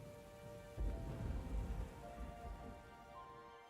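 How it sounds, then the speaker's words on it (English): Steady rain patters on a surface with a low thunder rumble rolling in partway through, faint and distant, no voices. "Sounds like the storm is passing."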